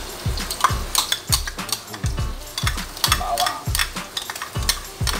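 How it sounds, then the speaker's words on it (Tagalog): Chopped garlic hits hot cooking oil in a pan for a Filipino alamang with ground pork dish, giving a steady close sizzle broken by repeated sharp scrapes and clacks of a spatula stirring against the pan. "Medyo mainit na yung mantika. Lalagay na natin yung bawang."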